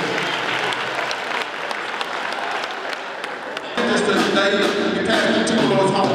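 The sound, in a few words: concert audience clapping for a gospel group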